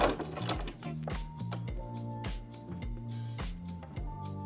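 Sewing machine stitching loops on a wedding gown lace-up, running in a fast steady chugging rhythm with brief pauses and restarts, close and fairly quiet, with no talking.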